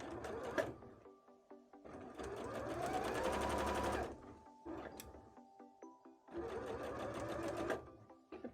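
A sewing machine stitches a bra in several close, rapid whirring bursts, with short pauses and small mechanical clicks in between.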